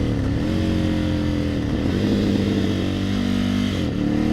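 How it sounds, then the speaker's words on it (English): A 2020 Ducati Scrambler 1100 motorcycle runs steadily up close under engine braking, its engine note holding loud and even, then dipping slightly in pitch as the bike slows. "Let's test the engine braking out."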